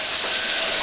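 Steam hisses in a loud, continuous, unbroken rush with no voices over it.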